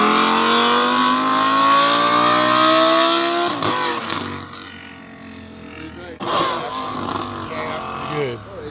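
An Audi R8 with factory headers and a gutted catalytic converter accelerates hard, its engine rising in pitch, then easing off and surging loudly again close by.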